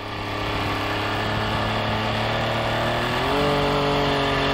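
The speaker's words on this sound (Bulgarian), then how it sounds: "След това почваме да подаваме плавно газ." A motor revving steadily as throttle is smoothly fed in, a constant mid-pitched drone that climbs slightly in pitch and loudness toward the end, close and alone.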